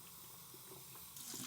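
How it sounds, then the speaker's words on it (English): Clean tap water running from a faucet to rinse film developing gear at home, a steady quiet splashing flow into a sink, brief and close with no talk. "Do one more run of just clean tap water."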